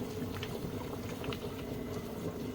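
A pot bubbles steadily at a low simmer, with soft continuous gurgling and popping close by, no voices.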